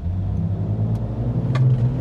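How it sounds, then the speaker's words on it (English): An ALPINA B4 GT car engine roars steadily at close range during a launch control start, a dense low rumble that holds strong throughout with a slight rising pitch near the end. "So that was a launch control start."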